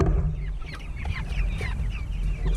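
Chickens being loaded into a chicken tractor cluck close up in a busy, continuous chorus of overlapping calls and short squawks.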